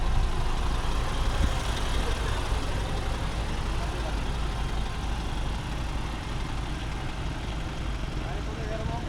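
A second-hand truck's engine runs steadily during a trial drive, a constant low rumble with a faint rattle, while people talk over it.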